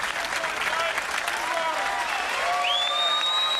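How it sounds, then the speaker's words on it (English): Bowling crowd at a PBA Columbia 300 Classic event on Long Island cheering and applauding loudly for bowler Norm Duke, a steady dense roar of claps and shouts with rising whistles near the end. "you can hear the Duke cheers"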